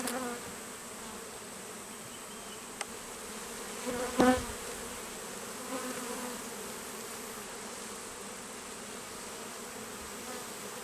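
Honey bees buzz around an open hive with brood and nectar frames, a steady soft drone of many insects nearby, with one bee swelling louder as it passes close.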